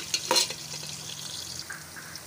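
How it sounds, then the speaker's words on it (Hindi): Onions fry in a pan toward light brown, giving a soft continuous sizzle with a couple of brief stirring clatters near the start, close and fairly quiet, no speech. "प्याज़ों को डालने के बाद 2-3 मिनट तक इसको ब्राउन कर लेंगे ताकि लाइट ब्राउन से हो जाए प्याज।"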